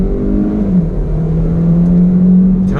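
A 2019 Hyundai Elantra GT accelerates with a low, steady engine drone that rises slightly in pitch, heard loud and close from inside the cabin.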